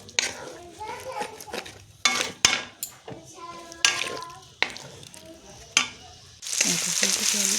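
Cauliflower and potato with spices being stir-fried in a pan, with scraping and clinking of utensils against cookware and a sizzle that swells louder near the end, while a voice chatters intermittently.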